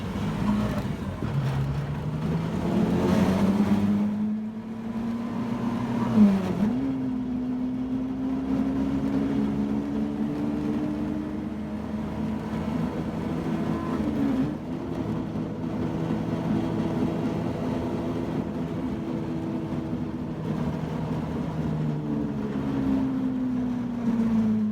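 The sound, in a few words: Suzuki Carry mini truck on tracks driving on ice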